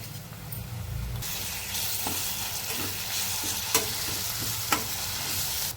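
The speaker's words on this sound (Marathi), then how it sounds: "त्यामध्ये आता आपण ठेसा घालून घेणार आहोत तोही छान तेलामध्ये परतवून घ्यायचा आहे" Chili thecha sautéed in oil with browned onion in a pan, a steady close sizzle with occasional stirring scrapes and a couple of sharp clacks of the spoon.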